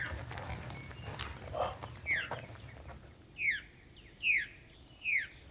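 A veery sings from the forest canopy along a hiking trail in Ohio's Oak Openings swamp woodland: four clear, descending, slurred calls at steady intervals, moderately near, over a low hiss of background ambience.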